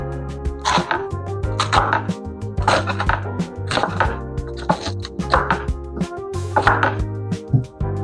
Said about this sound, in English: we're gonna go ahead and chop these up